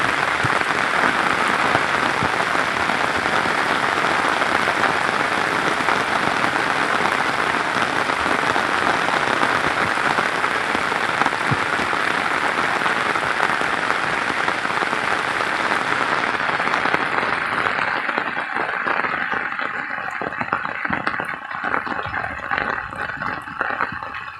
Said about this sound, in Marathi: आता जोरदार असा पाऊस पडतोय